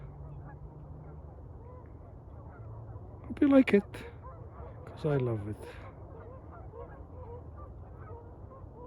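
Canada geese honk at sunset in two loud clusters of nasal calls over quiet ambient noise, while a voice speaks softly nearby.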